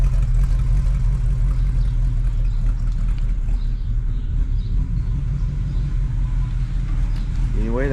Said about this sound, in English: Anyway, that's a cold start.